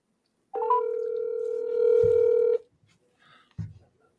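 A steady telephone dial tone hums for about two seconds, then cuts off, followed by a faint click and a short thump.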